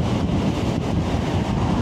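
Strong wind roars steadily and loudly across the microphone of a Suzuki Burgman 125 scooter riding at about 95 km/h on an open road, a dense, unbroken rush with no talking.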